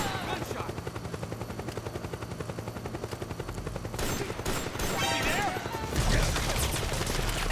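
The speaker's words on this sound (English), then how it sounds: "Gunshot." Rapid bursts of gunfire in Metal Gear Solid 4 crackle over a constant helicopter rotor thrumming, with heavier volleys toward the end; no one speaks.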